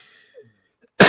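A single sharp, close cough bursts out suddenly after near silence.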